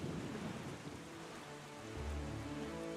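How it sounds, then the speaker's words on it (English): Thunderstorm in The Legend of Zelda: The Wind Waker, with steady rain hissing throughout and low rolling thunder rumbling at the start and again near the end, fairly quiet overall. "I love thunderstorms."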